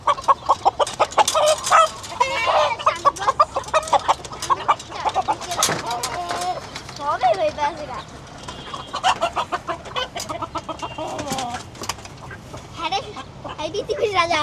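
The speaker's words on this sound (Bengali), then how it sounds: "এই তো আমাদের সেট আপে মুরগি, মাশাআল্লাহ।" Chickens cluck and squawk in a new backyard coop setup just after a rooster is released, with frequent close bird calls in irregular bursts alongside a person speaking.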